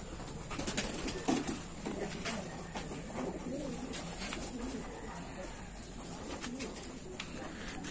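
Taiwan Gold racing pigeons coo softly in a loft, low murmuring calls repeating under faint background noise and occasional rustling.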